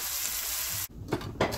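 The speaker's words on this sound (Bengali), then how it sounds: "আমরা একসাথেই ভেজে নিচ্ছি আলাদা আলাদা না করে" Garlic cloves and onion fry together in a pan for bharta, giving a dense, steady sizzle that shifts partway through into rougher bursts of frying and stirring scrapes, heard up close.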